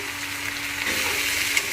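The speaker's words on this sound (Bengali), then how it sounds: "এখন আমি একটু নেড়ে চেড়ে ডিমগুলো ভেঙে একটু ঝুরি মানে ডিমের ঝুরি যেমন হয় ওইভাবে আমি ভেজে নেব" Two beaten eggs with onion sizzle softly in a pan while being stirred and broken into scrambled crumbs, a faint, steady frying hiss with light scraping.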